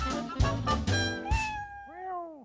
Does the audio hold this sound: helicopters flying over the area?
no